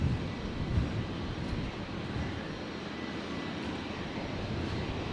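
Steady, loud aircraft engine roar during takeoff at Brisbane Airport, a broad continuous rumble heard from some distance with no talk over it.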